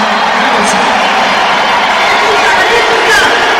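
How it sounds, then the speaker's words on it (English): Continuous roar of a large stadium crowd at the Germany vs Japan football match reacting to a penalty award, a dense unbroken wash of noise with faint whistles and a commentator speaking over it. "that was a delayed reaction from the crowd when it came up with a penalty for VAR on the big screens"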